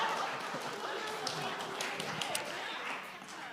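A crowd at the Te Au o Te Moana Māori conference in 2023 applauds steadily for several seconds, a dense wash of clapping with voices mixed in.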